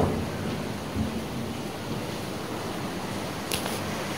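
Heavy rain pours steadily as a continuous broadband wash, with a dull low rumble of thunder near the start and a brief sharper crackle later, no voices present.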